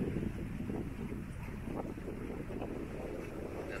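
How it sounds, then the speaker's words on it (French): Sailboat under sail off the west coast of Sardinia at sunrise, with a steady rush of wind across the microphone and water washing along the hull, constant and fairly loud throughout, no speech. "on est sous voile"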